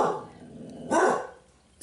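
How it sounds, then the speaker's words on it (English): Several house dogs bark in two short bursts, the second louder and nearer, with no voices over them. "all my dogs have something to say"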